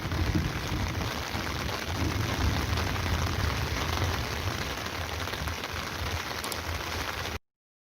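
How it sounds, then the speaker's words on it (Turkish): Steady, heavy autumn rain pours down in a dense, even hiss that continues unbroken, then cuts off abruptly near the end. "hala devam ediyor yağış"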